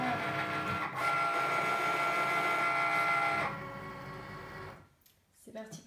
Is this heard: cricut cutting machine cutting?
yes